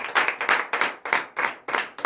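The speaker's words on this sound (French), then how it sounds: "Veuillez donner vive acclamation à notre Seigneur." A congregation claps in acclamation during morning prayer, a brisk, evenly spaced run of loud, close hand claps, about three per second, with no talk over them.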